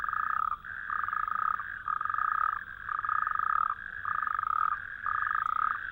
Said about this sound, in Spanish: Los anfibios que pueblan este medio marcan sus territorios sin parar de cantar.